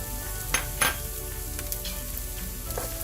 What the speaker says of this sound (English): I'm going to add the chopped onions. We're going to saute that down nicely.